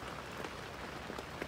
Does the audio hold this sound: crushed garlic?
no